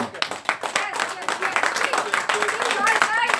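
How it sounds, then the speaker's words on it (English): A small group at a 1991 St Joseph's school reunion claps in a dense, lively round of applause that builds steadily, with voices talking and calling out over it. "So one round of applause for Sangeeta."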